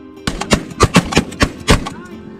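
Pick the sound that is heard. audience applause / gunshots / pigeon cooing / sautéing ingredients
gunshots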